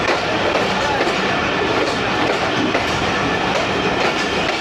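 Pakistan Express, train 45 Up, passing close on Main Line 1 with a dense, continuous loud roar of rolling wagons and wheel clatter throughout.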